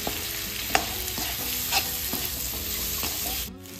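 Halved boiled potatoes fry with spices in a pan on medium flame, giving a steady sizzle broken by scraping stirs and a few clinks, heard close with no talk.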